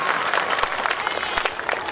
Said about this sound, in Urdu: ان کی محنتوں کو اور ایک مرتبہ زوردار تالیاں بجائیں.